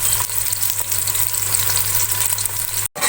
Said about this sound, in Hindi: अब प्याज को मैं ब्राउन कर लूंगी।